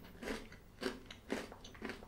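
Four crisp, evenly spaced crunches close to the mic, each bite of brittle honeycomb chocolate followed by a short quiet gap.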